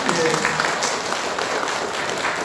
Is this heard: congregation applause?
yes